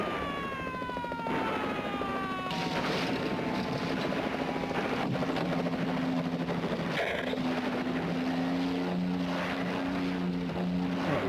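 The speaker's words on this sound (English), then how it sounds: "Oh, is that a real helicopter?" A helicopter in the 1978 comedy film Attack of the Killer Tomatoes, a loud, steady rotor and engine roar with falling whines at the start, then a sustained throbbing drone with a heavy thump midway.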